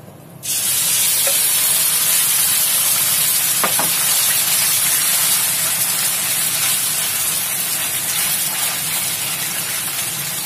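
Marinated chicken pieces dropped into a hot oiled wok erupt into a loud, sudden, sustained hissing sizzle that holds steady close up, with a couple of faint clinks and no talk.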